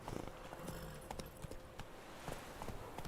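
In The Witcher 3, the horse Roach walks with soft, regular clip-clopping hooves, faint and evenly spaced under low game ambience.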